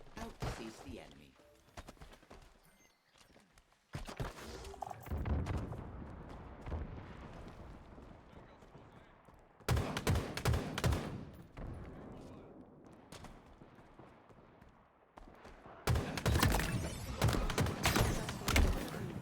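Bursts of gunfire in Halo Infinite during a 4v4 tournament match: clusters of sharp shots and thuds separated by brief lulls, at fairly loud volume, with voices talking over the action.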